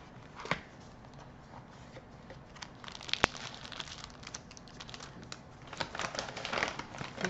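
A paper envelope being handled up close, with soft rustles, crinkles and one sharp snap, quiet and intermittent with no talk.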